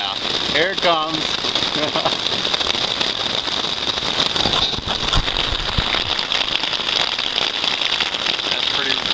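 Steady broadband hiss of rain falling, continuous and fairly loud throughout, with a brief voice near the start.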